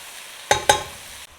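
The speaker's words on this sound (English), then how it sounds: "I'm going to stir in the coconut milk right now" Coconut milk stirred into a pan of shrimp and bok choy (patchoi), two quick scraping stirs over a steady low sizzle.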